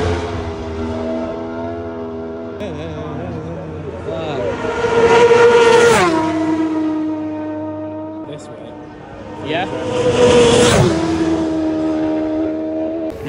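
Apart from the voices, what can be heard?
racing motorcycles flying past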